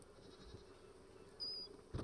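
A single short, high, thin bird cry in the survival video game Raft, rising faintly out of a quiet ambient bed and followed by a soft thump, with no talking.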